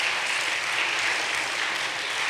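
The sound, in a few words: round of applause for sixth grade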